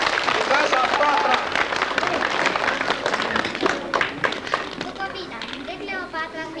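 Audience applause for a Romanian poetry recitation at a 1998 folk ensemble event, with steady clapping from a crowd that thins out toward the end, mixed with voices and some children's chatter.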